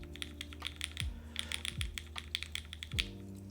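Mechanical keyboard with a polycarbonate Kohaku case being typed on, a steady run of close, crisp clacks with a few deeper thocks as the spacebar is struck.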